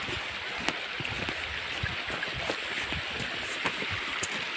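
A mountain river rushes steadily through a forested slope, a continuous broadband wash of flowing water with faint splashes, heard at moderate distance with no talking.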